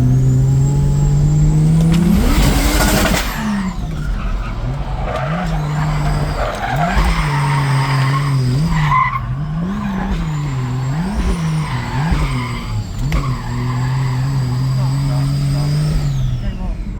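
A Ford XR6 Turbo drifting on a track, its engine revving hard and rising and falling in waves as the tyres squeal and skid in long bursts, loud and close throughout.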